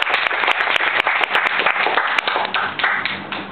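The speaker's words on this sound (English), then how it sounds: "I want everyone to give her once again a big round of applause" An audience at a Toastmasters speaking event applauds, a dense and steady round of clapping with sharp individual claps standing out, moderately loud and close, tapering slightly at the end.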